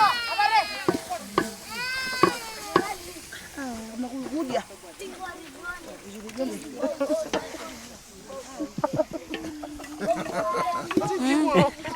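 Cabbage stir-fried over high heat in a hot pan for a Chinese dish sizzles softly, with scraping and stirring clatter underneath, while a person talks over most of it.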